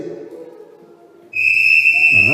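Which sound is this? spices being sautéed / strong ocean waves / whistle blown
whistle blown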